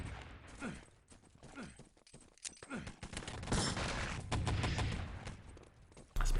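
Rapid bursts of gunfire during a competitive Enemy Territory match, clustered volleys of shots with game effects between them, loud and fairly steady, ending with a sharp louder burst.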